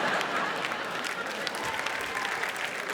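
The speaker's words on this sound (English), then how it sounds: "Don't applaud them." A comedy club audience applauds: steady, dense clapping from a crowd, with no voice over it.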